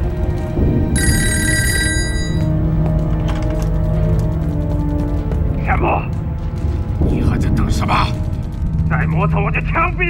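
A telephone bell at a military company headquarters rings in short loud bursts amid a busy, noisy wartime film scene, with other clattering sounds and effects around it.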